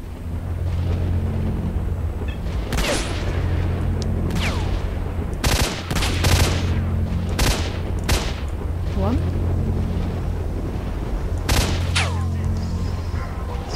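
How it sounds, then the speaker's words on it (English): Gunfire and explosive bursts in the S.T.A.L.K.E.R.: Shadow of Chernobyl video game, loud and repeated sharp cracks over a steady low rumble, with a voice talking over the action. "Something else is shooting"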